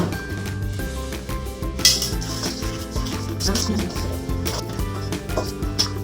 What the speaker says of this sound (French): On mélange tout ça jusqu'à avoir une pâte bien homogène.